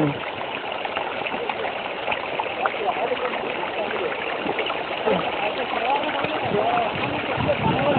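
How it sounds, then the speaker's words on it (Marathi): A babbling stream on the Rajgad fort trail gurgles in a constant, close rush of water with no break. "मस्त आवाज यायला पाण्याचा"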